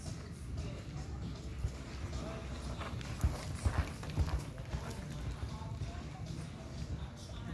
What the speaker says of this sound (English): Canter, show at the canter.